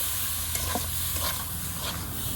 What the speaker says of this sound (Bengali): এখন আমি অল্প অল্প করে জল দেব আর এটা সুজিটা পুরো সিদ্ধ করে নেব